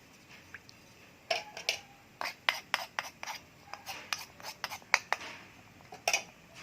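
Beef rendang with water and spice paste being stirred in a cooking pot, quiet scraping and clinking of a utensil in irregular bursts, close and soft with light background noise.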